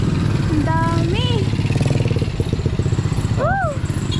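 Motorcycles pass along a road while riding through a busy stretch with many bikes, engines droning steadily and close throughout, with a couple of horn-like tones rising over them and people talking.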